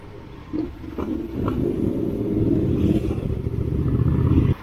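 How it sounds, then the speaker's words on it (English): Motorcycles pass on a road during a ride, a loud rumbling engine drone that builds steadily and holds close by, with a few clattering knocks at the start. "There's a lot of motorcycles going around"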